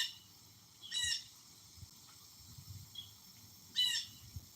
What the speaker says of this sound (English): See, that sounds like a blue jay.